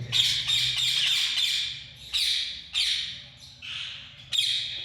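A ringneck parakeet, a breeding male, gives a series of loud, harsh squawks close by, about six sharp bursts with short gaps, each with strong rasping overtones.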